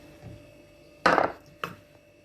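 A knife chopping through frozen meat for homemade döner: two sharp, close cuts, one longer and harder and a shorter one after, over a quiet background.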